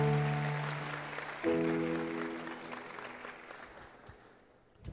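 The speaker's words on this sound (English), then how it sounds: "Claps కొడదామా గట్టిగా." An audience claps at a church youth festival, a moderate round of applause that swells briefly and then fades out, with sustained musical tones underneath at the start.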